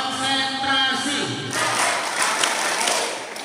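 Schoolchildren at an Isra Mi'raj gathering join in the 'tepuk konsentrasi' clap game, a dense burst of many hands clapping together that rolls on steadily in a room, following a stretch of voices.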